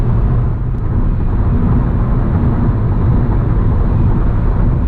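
Interior cabin drone of a 2007 Honda Accord V6 with a manual gearbox cruising at highway speed around 70 mph, a steady loud low rumble with broadband road and wind noise throughout.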